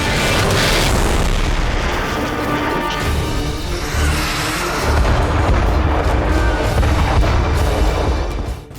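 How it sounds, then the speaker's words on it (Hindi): Cluster bombs go off in wartime fighting over Nagorno-Karabakh between Azerbaijan and Armenia, making a loud, unbroken roar of deep booms and rumbling blasts that runs the whole length with no pause. "क्लस्टर बम कोहराम मचा रहा है।"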